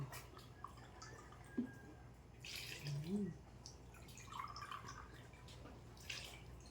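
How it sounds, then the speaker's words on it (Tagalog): Water being poured into puto (steamed rice cake) batter in a home kitchen, heard as a faint, brief trickle and splash under quiet room noise, with no talking. "Lalagyan na po natin siya ng tubig."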